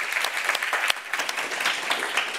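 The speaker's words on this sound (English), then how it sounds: "join me in a round of applause to thank the participants" A room full of people at an academic panel applauds, dense steady clapping from many hands that stays even and fairly loud throughout, with no voices standing out.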